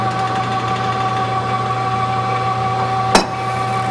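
A cutaway engine on display runs with a steady, even mechanical drone and hum, close and constant, broken by a single sharp click near the end.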